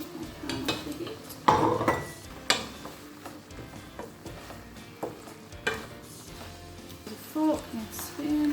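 Noodles are plated up from a stir-fry pan with a fork and spoon: sharp metallic clinks and scrapes of cutlery against dishes come in irregular bursts over faint sizzling, with a person speaking in between.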